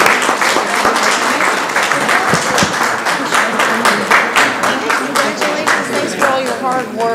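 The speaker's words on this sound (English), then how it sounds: "Let's give them another round of applause" An audience applauding at a live-streamed gathering, steady loud crowd clapping for several seconds with scattered cheers and voices mixed in.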